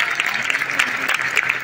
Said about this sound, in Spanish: Les pido un aplauso muy grande a toda la gente que nos compartió su testimonio.